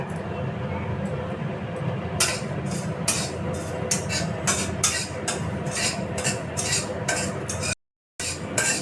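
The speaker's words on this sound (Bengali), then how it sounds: "পোস্তটা আমি একটু খালি কড়াইয়ে একটু ভেজে নিচ্ছি" Poppy seeds dry-roast in an empty wok, heard as a hiss under repeated, regular scraping and stirring strokes of a spatula against the metal, close and fairly loud.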